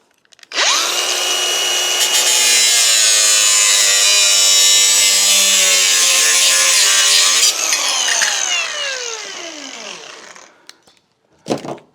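Power tool cutting a garage door seal brush strip: a loud, sustained high whine that starts abruptly, holds steady, pitches down as it winds off, then a brief clack.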